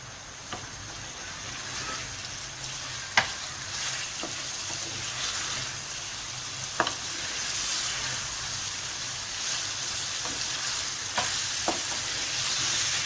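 Arvi palak keema sautéing in a pan, a soft continuous sizzle with occasional sharp spoon clicks and scrapes as it is stirred, close but moderately quiet, no voices.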